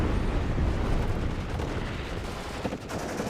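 Rockets from Gazelle helicopters streak in and explode in the video game WARNO, a dense rumbling barrage of blasts and gunfire-like cracks that runs throughout without pause.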